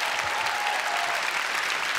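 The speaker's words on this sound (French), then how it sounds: "Vous pouvez l'applaudir." A television game show studio audience breaks into steady, dense applause, a continuous wash of many hands clapping at even loudness throughout, with no talk over it.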